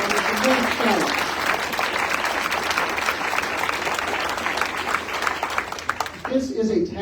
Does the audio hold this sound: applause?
yes